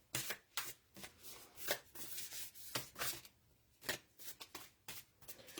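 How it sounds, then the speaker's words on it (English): A deck of cards being shuffled by hand, a quick series of soft riffling and sliding bursts at close range in a quiet room. "I hadn't even really shuffled it"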